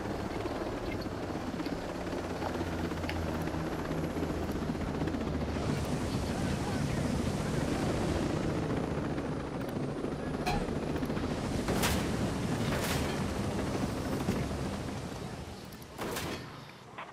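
Helicopter in the Ghost Recon Breakpoint video game, a steady loud rotor drone with wind-like rush filling the whole stretch, sharp bursts near the end as it fades slightly.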